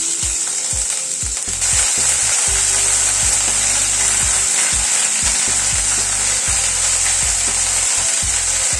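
Ginger paste and mustard seeds frying in hot oil, giving a steady bright sizzle with intermittent scraping and stirring knocks from a utensil in the pan.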